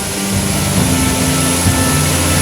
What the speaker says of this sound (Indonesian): Kedua pesawat ini lepas landas dari Lanut Halim Perdana Kusuma, Jakarta